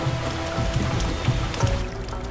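Rain falls steadily in a film scene as a close, even patter on the ground, with a few heavier splashes and drips standing out above the wash.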